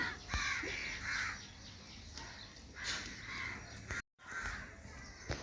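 Crows cawing around a house, several harsh calls in short bursts at moderate distance, with quiet household background and no talk.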